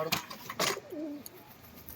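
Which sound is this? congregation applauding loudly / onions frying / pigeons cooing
pigeons cooing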